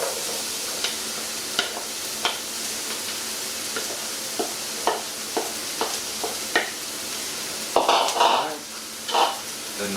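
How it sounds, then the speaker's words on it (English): Four chopped onions cooking in oil in a pan for chili con carne, a low sizzle under repeated sharp scrapes and taps of a utensil stirring, with a louder burst of clattering near the end. "So our 4 chopped onions going in first."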